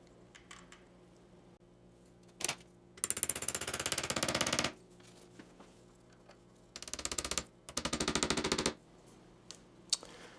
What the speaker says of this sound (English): now I can tack in the finished nails that will hold the frame in place